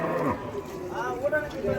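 A four-toothed cow at the Vaniyambadi cattle market gives a short low moo under nearby talk and market chatter.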